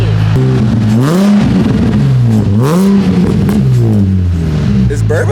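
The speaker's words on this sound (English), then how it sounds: "now you can hear the tone of the exhaust" A Nissan 350Z exhaust revs up and down in repeated swells, then settles into a deep burble, loud and close, with people talking over it.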